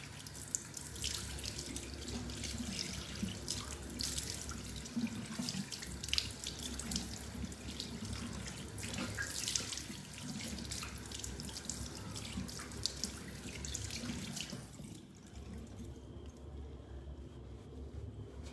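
Tap water runs steadily into a sink while day cream is rinsed off the face during a skincare routine, a continuous close splashing hiss that drops off near the end. No one speaks.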